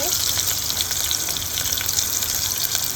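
Onions hit hot oil in a home kitchen pan for a Bengali sour dish with hilsa fish and sweet potato, a loud, steady, close-up sizzle with crackling spatters throughout and no talking.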